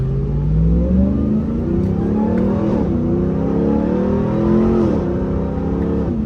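A Ram TRX pickup truck engine revs and whines as it accelerates, pitch rising and dipping in waves, loud and close, with no voices.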